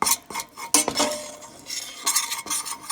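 Flour stirred into melted butter in a pan over low heat, a close, steady scraping of a utensil against the pan with several sharp metallic clinks, no talking.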